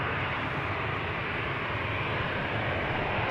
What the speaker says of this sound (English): Air Europa up next, going to Madrid. Not the Dreamliner, but the 737-800 today, flight 1098.